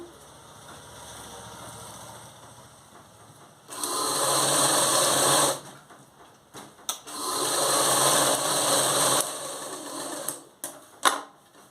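A sewing machine stitches a blouse in two steady whirring runs of about two seconds each, with quieter handling and clicks between them, close by and without talk.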